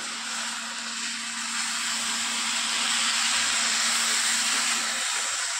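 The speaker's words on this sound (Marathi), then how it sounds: "कोमट पाणी घालते मी." Warm water poured into a hot pressure cooker holding sprouts and rice for pulao sets off a loud, steady hiss of steam that runs unbroken throughout.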